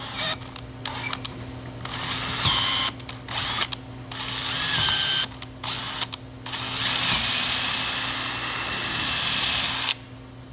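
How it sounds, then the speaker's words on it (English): A power drill whirs in repeated bursts while slowly drilling plexiglass, stopping and starting, then runs steadily for a few seconds before cutting off, heard up close. "The drill bit is going to want to catch in the threads as it moves around"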